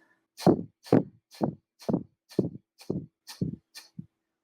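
Eight quick, forceful breaths pushed out through the nose in an even rhythm during skull shining breath (kapalabhati) yoga breathing, close and clear, the last one softer.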